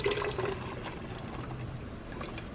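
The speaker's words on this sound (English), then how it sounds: "Now that our little sauce is all fully blended, we're going to dump it in a pot." Blended sauce for meatball soup pours into a pot with a steady, moderately quiet liquid splashing and trickling sound, unbroken throughout with no talking.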